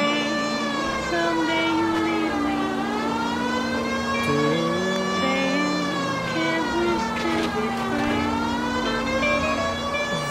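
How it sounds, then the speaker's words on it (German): Wailing police siren from the video game L.A. Noire Remake, rising and falling in long sweeps, loud and steady throughout with no talk over it. "Willkommen, Tatütata."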